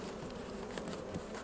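Honeybees buzzing around an open hive while frames are shaken during spring brood work, a steady dense drone close by with no talk over it.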